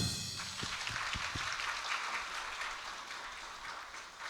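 A congregation at a birthday Mass for a parish priest claps together, a faint, steady patter of applause from the room, heard alone without talk.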